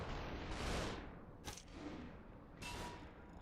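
Gunfire in the video game Superhot: a few distant-sounding muffled shots and thuds spaced irregularly over a quiet background, fairly faint with no talking.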